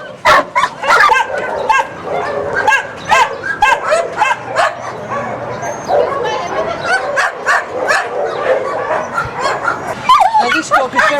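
A nervous rescue dog at an animal welfare centre barks in sharp, repeated yips mixed with whimpers, loud and close, while people talk throughout.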